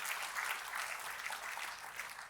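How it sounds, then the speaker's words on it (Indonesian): A church congregation claps together in steady, lively applause for God during a sermon, the clapping fairly soft and distant but continuous across the moment with no voices on top. "Jadi kita kasih tepuk tangan yang paling meriah buat Tuhan."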